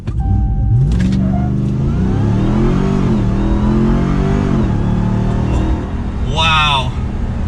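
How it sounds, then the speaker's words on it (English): A 2023 Ram TRX Havoc Edition truck launches hard using launch control. Its big engine roars loudly and steadily as it climbs through revs, heard from inside the cab, and eases off near the end. "it activated and we launched for this massive truck"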